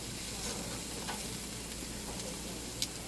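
Thick Costco pork loin chops, halved, sizzle on a family barbecue grill with a steady close hiss and crackle, and one sharp pop near the end.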